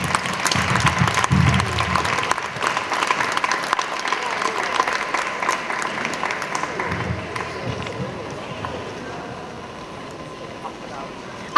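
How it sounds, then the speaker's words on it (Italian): Audience applause at a singing gala of a voice academy, a steady crowd clapping spread over about twelve seconds, strongest early and slowly thinning, with some voices mixed in. "ma tanti! Tantissimi applausi!"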